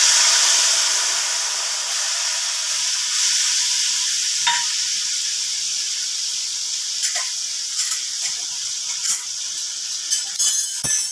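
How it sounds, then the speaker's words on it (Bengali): Spices soaked with salt, turmeric and cumin powder sizzle steadily in hot oil with nigella seeds, a continuous bright hiss broken by a few sharp scrapes and clicks of stirring toward the end, no voices. "এটাকে আগে মশলাটা কষিয়ে নিচ্ছি"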